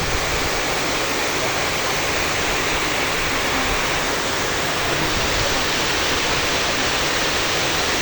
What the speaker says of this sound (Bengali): এই প্রথম মনে হইতেছে এত পরিমাণ বৃষ্টি।